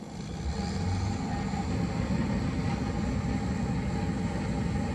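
Diesel engine of a Kuhn Knight RC270 spreader revving steadily close by, a loud continuous drone with rumbling low end that holds from the start with no voices.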